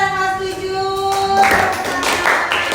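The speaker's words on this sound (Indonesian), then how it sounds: "tepuk tangan untuk kelompok Anda dan kelas" A class applauds a student group after their presentation in a classroom, scattered claps breaking out and thickening into steady clapping over a lingering tonal hum at the start.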